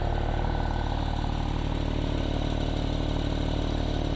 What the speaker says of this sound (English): it sounds just about the same as every other Porsche at idle